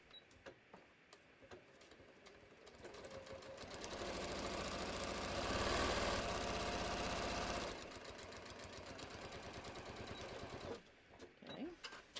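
Sewing machine stitching a bucket hat at a short stitch length, a rapid mechanical whir that builds, runs steadily for several seconds and then slows, with slower ticks before and after.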